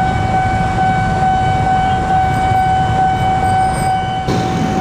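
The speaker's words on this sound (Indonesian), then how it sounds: "Ini dari belakang saya ada KRL mau lewat" A KRL commuter train passes a level crossing at Bungur: a steady, loud rolling rumble with sustained tonal ringing over it. A sharp shift comes near the end, and no one speaks.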